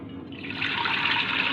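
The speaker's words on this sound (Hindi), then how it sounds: "तो सबसे पहले मैंने चूल्हे पर अपना प्रेशर कुकर रख लिया है। उसके अंदर मैंने पानी शामिल करना है।" Water pours steadily into a pressure cooker set on a stove, a continuous splashing stream building in fullness over a second and a half, close and alone.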